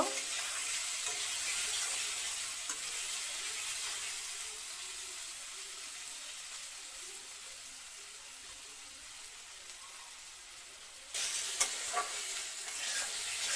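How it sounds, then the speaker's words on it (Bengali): Potato pieces frying in a pan with bay leaf, nigella seeds, turmeric and salt, a steady soft sizzle with occasional stirring scrapes, quiet and continuous, with a louder burst of sizzling near the end. "আলুটা ভালো করে লাল লাল করে ভাজা হয়ে গেছে"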